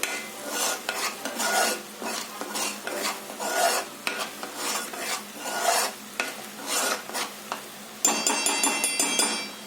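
A spoon stirring a Sunday-special fish curry (chepala pulusu) in a pot, giving repeated rhythmic scraping strokes with a faint sizzle, close and steady with no talking, ending in a sharper metallic clink.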